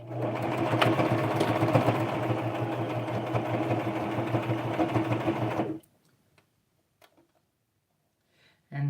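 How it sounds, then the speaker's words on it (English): A sewing machine runs steadily for about six seconds, stitching together the two back-of-head fabric pieces of a homemade doll, then stops abruptly, leaving near silence with a few faint clicks. "I'm going to sew the back of the two parts of the back of the head together"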